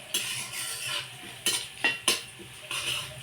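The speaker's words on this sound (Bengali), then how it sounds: "পেঁয়াজটা লাল করে ভাজা হয়ে গেছে" Onions fry in a pan for a Bengali-style tender goat curry while a utensil stirs them, with bursts of sizzling and several sharp metal scrapes and clinks against the pan, close and fairly loud.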